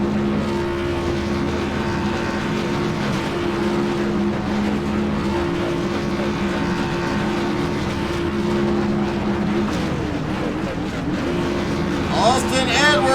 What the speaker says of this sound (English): Obviously some of the guys trying to keep some heat in the engines here while they're waiting.